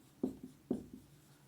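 Chalk or marker strokes on a classroom board during a lecture on current electricity, with two short taps or scrapes, each followed by a softer stroke, fairly close and with no voices.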